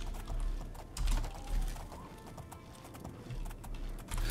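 Hooves of a black horse in the video game The Elder Scrolls IV: Oblivion clop in an uneven rhythm on hard ground, fairly close, with soft clicking and rustling between the steps.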